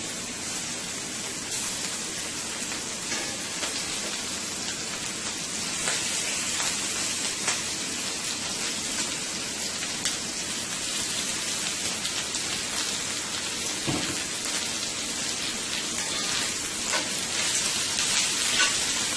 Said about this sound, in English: So I'm going to start laying my shrimp into the pan here.